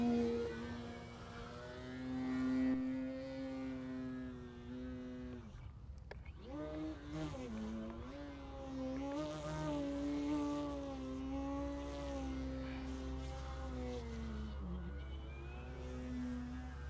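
RC fixed-wing plane powered by a Hobbywing Platinum 41 motor flying, a steady electric whine that rises and falls in pitch as the throttle changes, heard at a moderate distance over faint wind noise.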